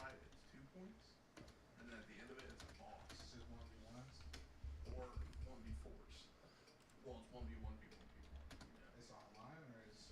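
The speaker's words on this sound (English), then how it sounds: "Sorry, I was typing." Steady computer keyboard typing runs for about ten seconds during a live futures-trading stream, with continuous clicking under conversational talk.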